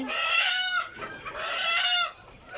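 Farm chickens give two long, loud, harmonic clucking calls close by, each drawn out over nearly a second, with a short pause between them.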